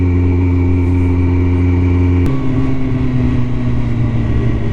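Motorcycle engines run close by in a steady, loud drone, the tone shifting abruptly about halfway through as the riding pace changes.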